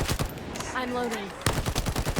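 Rapid gunfire bursts in the video game The First Descendant, loud staccato volleys at the start and again after a brief lull, with a faint voice-like tone in between.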